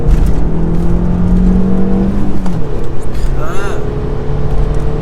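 Audi A3 1.8T four-cylinder petrol hatchback with 180,000 miles, engine blipping on a rev-matched downshift into second and then pulling hard as revs climb, heard from inside the cabin with steady road noise and some talk over it.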